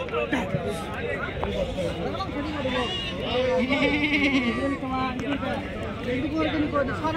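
Several goats bleat repeatedly, near and far, at a goat market in Galivedu, over a background of people chattering.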